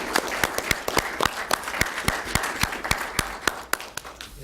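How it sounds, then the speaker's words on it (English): A small audience at a township council meeting claps in a short round of applause, sharp distinct hand claps at close range, fairly sparse and uneven, continuing for a few seconds. "Can you please have a round of applause for Lauren?"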